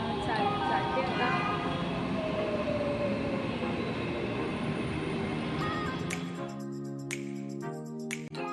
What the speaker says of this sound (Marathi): मेट्रो आलेली आहे आता. मेट्रो चालते आता.